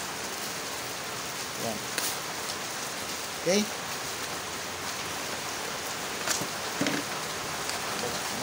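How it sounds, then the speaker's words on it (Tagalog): Steady rain falls outdoors as a continuous broadband hiss, moderately loud throughout, with a few brief spoken words and small knocks over it. "Ayan, umuulan na ho dito sa amin."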